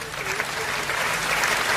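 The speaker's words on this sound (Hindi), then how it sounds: "तो एक बार इनके लिए तालियां बजा दो" A crowd at a Hindi comedy poetry gathering breaks into dense, continuous applause that fills the room evenly, with a faint murmur of voices underneath.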